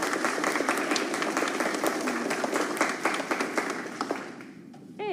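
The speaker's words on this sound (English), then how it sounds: "Let's give them a round of applause" An audience at a middle school 6th grade band concert applauds, a sustained, lively patter of many hands clapping in a hall that thins out and fades near the end.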